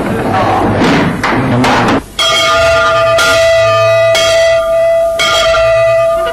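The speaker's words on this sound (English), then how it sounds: "The working day starts with colors at 8 bells in the morning watch." A large ship's bell is struck four times, about a second apart, each ring sustaining into the next, after a few seconds of noisy background.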